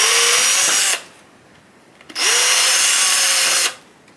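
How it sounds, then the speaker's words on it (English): A power drill with a 3mm bit drilling into HIPS plastic whirs loudly, stops for about a second, then starts again and runs steadily before cutting out, close up with no talking. "so I've just got a 3mm drill in here now"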